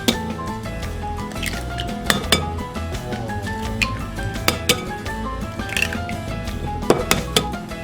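Four eggs are beaten in a bowl for a coffee flan, giving close, quick, irregular clinks and taps of a utensil against the bowl over a soft wet swishing, with no talk.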